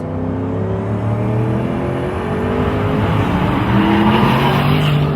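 A turbocharged Noble M600 in its 650-horsepower race mode roars loud and close. The engine note climbs steadily in a sustained, rising rev with a harsh, buzzy edge.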